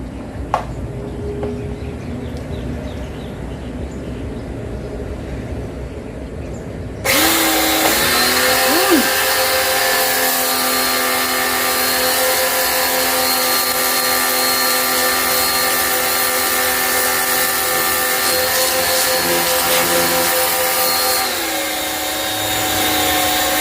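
A repaired pressure washer switched on for a test: a faint background hum, then a sudden loud, steady motor and pump whine that runs continuously at close range.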